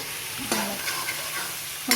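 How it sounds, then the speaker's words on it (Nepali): Spices for a duck curry are stir-fried in a pan: a low, steady sizzle broken by two distinct scraping strokes of a spoon, one early and one at the end. "मजाले भुट्छु"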